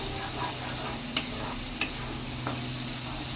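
Paneer masala spices with turmeric and cumin powder sautéing in a pan, a continuous soft sizzle broken by a few sharp scrapes of stirring, close and steady with no talk.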